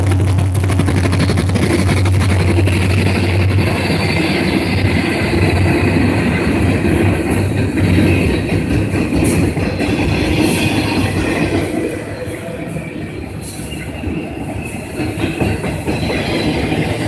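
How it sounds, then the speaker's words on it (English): A train passing close by, with loud low rumble and rolling wheel noise that holds steady for several seconds and then eases off as it moves away. "Oh, that's a train, sorry."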